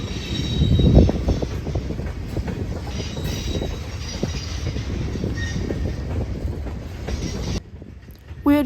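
CPKC 254, a freight train led by an NS ACe and a KCS GE locomotive, passes in La Crosse with a heavy, continuous rumble of cars and wheels, a brief wheel squeal near the start and an abrupt drop near the end.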